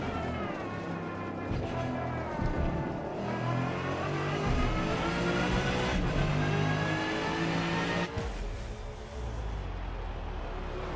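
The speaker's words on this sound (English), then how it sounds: "Driving a BMW M6 GTLM." A BMW M6 GTLM race car in Gran Turismo 7 revs steadily, its engine note climbing through the gears with a shift near the end, loud and continuous with no talk.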